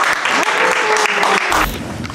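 Dense, steady applause, hands clapping loudly and close throughout a brief stretch, with a few sharper claps standing out near the end.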